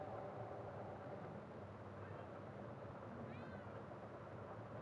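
In-game cat meows in Murdered: Soul Suspect, a couple of soft high cries near the end, faint beneath a steady background hum.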